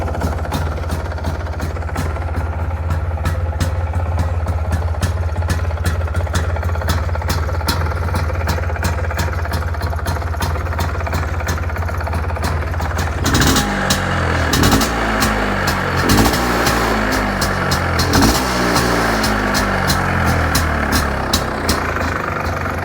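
A cold motorcycle engine with a new seal on the exhaust connector idles steadily with a fast, even putter, then shifts partway through to a rougher, lower chugging with some uneven revving, close and loud.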